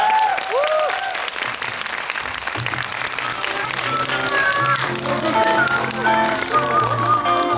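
An audience claps loudly and continuously at a Korean movie talk event in a cinema hall, the applause steady throughout with music playing along.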